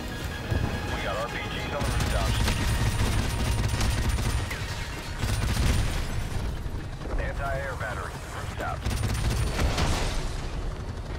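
Turret machine gun firing in the Call of Duty: Modern Warfare Remastered video game as it overheats, with dense continuous gunfire bursts and explosions filling the clip, loud and close, under a speaking voice.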